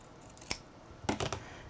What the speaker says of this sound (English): you cut it in half from corner to corner